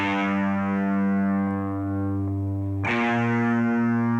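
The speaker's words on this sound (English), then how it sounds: "Use a slightly grittier distortion, something that's a little bit more lo-fi" Sustained distorted bass tones with a gritty, lo-fi buzz, holding steady before a new note attacks near the end; no voices.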